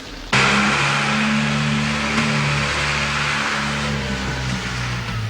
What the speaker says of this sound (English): That sounds like my lorry.